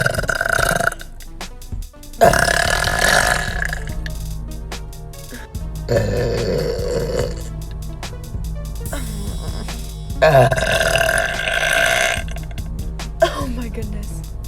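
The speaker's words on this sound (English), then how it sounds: "I have been asked before if there's unsatisfying burps, and the answer is yes." A woman lets out several long, loud, croaking burps in sequence, each lasting a second or more with short pauses between, heard close to the microphone.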